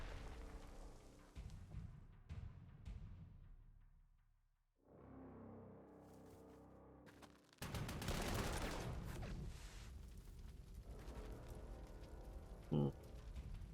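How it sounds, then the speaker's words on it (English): Artillery bombardment in the WWII strategy game Panzer Corps 2 sounds as a run of heavy booms and rattling gunfire bursts, fairly faint overall, with a brief lull before a louder barrage. "might as well start bombarding away"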